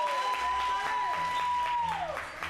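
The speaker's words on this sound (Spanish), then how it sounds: "vamos a recibir con un fuerte aplauso a Don Florito." A television studio audience claps steadily at a comedy tribute event, a dense, even applause that fades out at the end, with a voice speaking over it.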